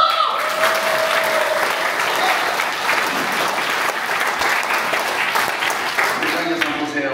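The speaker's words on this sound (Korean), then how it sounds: "우리 사모님 힘내시라고 박수." A Korean church congregation in Wrocław, Poland, applauds during a special ventriloquism service, a dense, loud, sustained crowd clapping with a voice briefly heard near the start and end.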